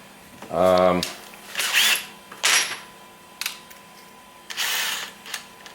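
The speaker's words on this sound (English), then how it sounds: "I need to drill 2 holes there." A power drill whirs in a short burst while drilling holes in a Kawasaki KLT 200C tank cover, followed by several brief scraping, grinding spurts at irregular intervals, close by.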